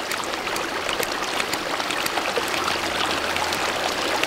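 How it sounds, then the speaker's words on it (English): A portable water filter pumps water, giving a soft continuous trickle and splashing flow close by, steady and fairly quiet throughout with no voices. "And now it's starting to pump really good."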